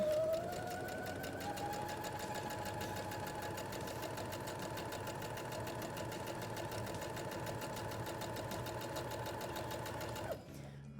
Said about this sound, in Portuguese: vou começar a costurar, deixando, como eu falei, mais ou menos 1 centímetro de costura na costura reta